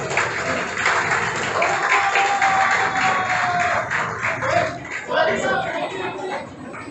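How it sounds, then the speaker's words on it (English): A college audience at a ceremony rises from their seats, shuffling and moving, and gives a sustained round of applause for the dignitaries, with voices mixed into the steady crowd noise. "please stand up and give a round of applause to all our dignitaries"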